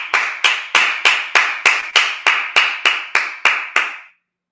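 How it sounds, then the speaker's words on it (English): Loud, sharp hand claps at a Sabbath service ring out in a steady rhythm, about a dozen evenly spaced claps close by, each with a brief decaying tail, and no talking. "let's clap it up."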